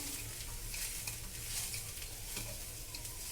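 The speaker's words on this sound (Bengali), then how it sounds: "এবার ছাতুটাকে খুব সুন্দর করে এই কড়াইশুঁটির পুরটার সঙ্গে মিশিয়ে নেব" Green pea filling for kochuri being stirred and mixed with sattu in a wok, a steady scraping stir with soft sizzling underneath, close and moderately quiet throughout.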